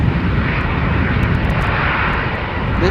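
Airliner taking off at Schiphol Airport, a loud, steady engine roar with broad rumbling low end and no break, heard from nearby.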